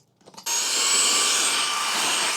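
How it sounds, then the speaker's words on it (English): A Kermoky cordless stick vacuum cleaner sucks up spilled dirt. After a few faint clicks and rustles, the motor kicks in at full power, giving a loud, steady, high whine close by. "Let's put this back in there and vacuum up the mess I just made."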